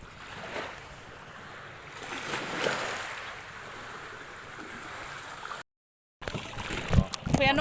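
Sea waves wash onto a beach in a steady, rushing surf that swells and eases, broken by a brief gap, with people talking nearby and some louder knocks toward the end.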